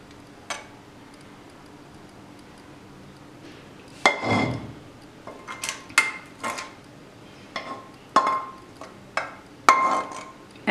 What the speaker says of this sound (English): And now I'm going to mix it nicely.